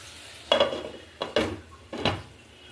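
Ash gourd cooking with prawns gets stirred in the pan in three separate scraping strokes over a quiet background with faint sizzling.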